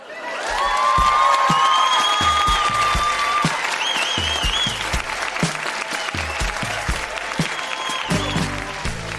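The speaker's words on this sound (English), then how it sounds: "Huge round of applause for all of the readers." A live audience at a Grown Ups Read Things They Wrote as Kids show in Winnipeg applauds the readers: loud, sustained, full-room clapping with scattered whoops and cheers, steady for several seconds.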